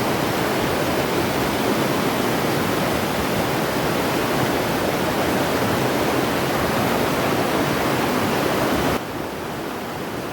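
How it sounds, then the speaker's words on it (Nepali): A forest stream rushes continuously, a dense, loud, even roar of flowing water close by with no voices. "हजुर सुन्नु सक्नुहुन्छ खोलाको आवाज आनन्दले पिस के।"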